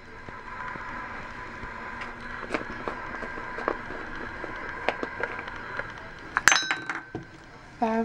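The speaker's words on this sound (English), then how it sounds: "these little lumps of flour, just kind of mix them up really good" Utensil clinks and scrapes against a pot while flour lumps are stirred into potato soup, light repeated taps and clatter throughout, with a louder burst of clinking near the end.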